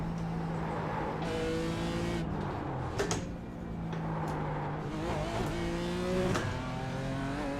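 A BMW M4 race car in the iRacing simulator revs hard through the gears, its engine note climbing and dropping with each shift in a steady, loud drone.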